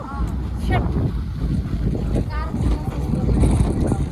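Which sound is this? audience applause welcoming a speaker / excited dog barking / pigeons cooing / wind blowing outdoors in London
wind blowing outdoors in London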